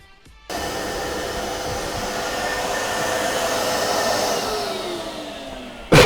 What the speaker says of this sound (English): the next step is getting through the shot blaster and see what happens